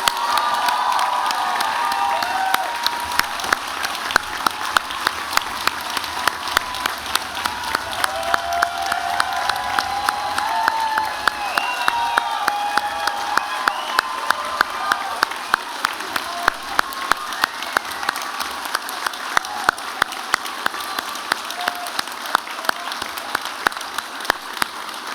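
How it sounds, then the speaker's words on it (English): Sustained applause and cheering from a large crowd honouring graduates at a spring convocation ceremony, dense clapping with occasional whoops carrying on steadily throughout. "join me again in a huge round of applause for our amazing"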